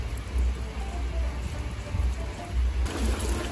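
Steady heavy rain falls in a Thai outdoor setting where African bullfrogs sit in water, with a low rumble of thunder beneath the constant patter; no voices.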